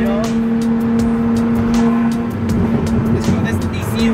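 A tuned BMW E30 fitted with an S54 engine rumbles along with its exhaust valve open, giving a louder tone and small crackling pops over a steady drone while people speak in the cabin.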